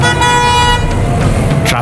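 Car horns honk repeatedly in congested traffic in a dusty, heavily polluted city, loud and steady toots over a constant rumble of engines and street noise, with a brief vehicle pass near the end.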